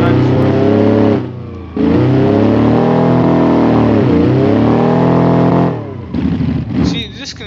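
Loud, continuous engine drone of a car drifting through corners in BeamNG, with pitch swooping up and down, a brief dip near one second, then a drop near the end.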